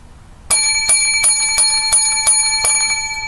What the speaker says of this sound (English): Hold on, the bells.